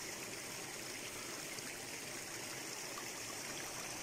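A forest brook flows in a constant, even rush and trickle of water, moderately close, with no voices.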